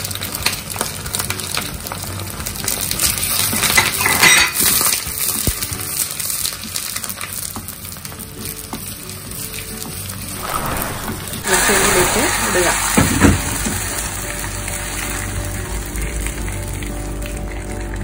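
Shallots frying in hot oil with dry chillies and curry leaves for the tempering of a Kerala ripe mango curry, a continuous loud sizzle with a sharp burst partway through as more goes into the pan.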